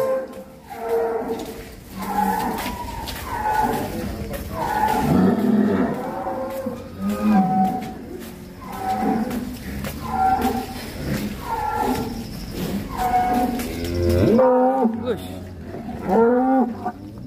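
Agitated cattle in a farm pen moo and bellow again and again, loud and close, the drawn-out calls overlapping with short pauses between them.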